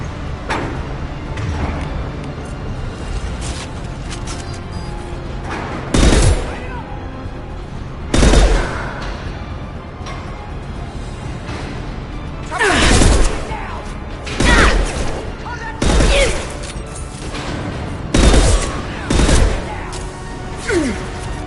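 Video game gunfire in Mass Effect 2 Legendary Edition: sharp shots and bursts crack out repeatedly over a steady combat din, with several loud blasts clustered in the second half and brief talk between them.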